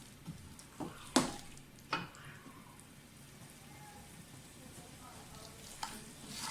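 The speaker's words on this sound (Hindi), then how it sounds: "आलूओं की भुनाई कर लें पहले थोड़ी सी।" Potatoes fry in a pan with a soft, continuous sizzle, while a few sharp clinks and stirring scrapes land near the start and fall off afterward. No one speaks.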